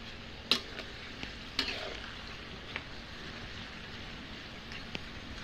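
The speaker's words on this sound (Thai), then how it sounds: "หน้าทุเรียนพี่น้องไม่ทอดก็กวน" Durian sizzles and crackles steadily in a hot pan as it fries, with a few sharp scraping knocks scattered through, close by and without speech.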